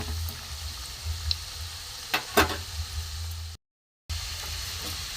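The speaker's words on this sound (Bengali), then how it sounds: "উল্টে পাল্টে ভেজে নেব" Oil sizzles softly and steadily as malai chop pitha dumplings fry in a pan, with a few clinks of stirring, then a brief gap before the sizzling resumes.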